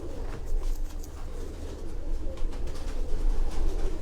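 Young pigeons in a loft coo low and steadily close by, a continuous murmur of throaty calls against a rumbling background with no talk.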